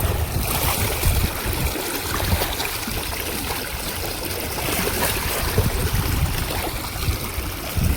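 Rainwater rushes out steadily after heavy rain, a continuous broad wash of flowing water with gurgling texture, fairly close and even in level throughout.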